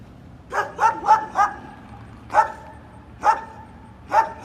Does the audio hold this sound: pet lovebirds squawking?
no